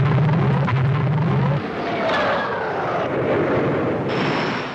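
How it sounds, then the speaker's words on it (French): The Espadon, an early French jet prototype, roars past in a loud, broad rush of engine noise that swells and shifts in pitch, with a low droning tone at the start. "Il était suivi presque aussitôt par un étonnant prototype, l'Espadon, 1000 km/h."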